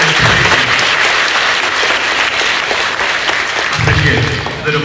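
A school audience at a speech competition breaks into loud, sustained applause, a dense wall of clapping lasting the whole stretch with a brief swell near the end.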